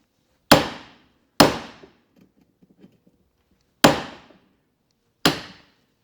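Four sharp, loud hammer impacts on metal with ringing decay during king and link pin spindle service on a 1962 Volkswagen Beetle, a pair close together then two more after a pause, with faint clatter in between.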